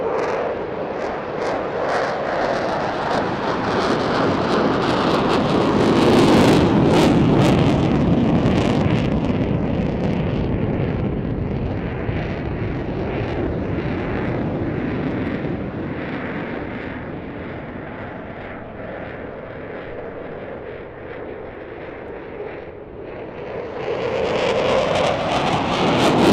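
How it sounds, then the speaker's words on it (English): A fighter jet at an airshow lights its afterburners and accelerates away, producing a sustained, roaring rumble that swells and slowly fades with distance over nearly half a minute. "Kicking the burners back in now, the jet will accelerate away."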